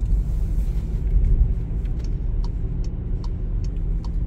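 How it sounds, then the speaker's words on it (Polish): Heavy road traffic rolls past in a steady, dense low rumble of car engines and tyres, with faint ticking clicks on top and no voices. "ale ruch jest ogromny."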